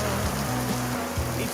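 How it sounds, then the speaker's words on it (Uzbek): Steady rain falls in an outdoor drama scene, a dense, even hiss of drops on surfaces with soft music tones running underneath throughout. "Yomg'ir yog'yapti."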